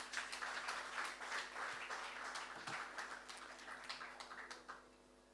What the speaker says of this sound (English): kindly give the team and the bank a round of applause